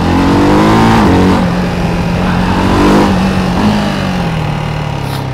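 A Ducati Hypermotard 698 RVE motorcycle engine revs loudly and close while being ridden, climbing toward about 7000 rpm. Its pitch rises and falls with each gear change.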